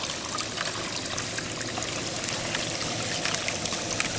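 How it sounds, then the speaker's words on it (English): Water overflowing and trickling out of a container while betta fry are being moved, a steady close splashing stream running throughout, with no talk. "It doesn't matter if the water overflows"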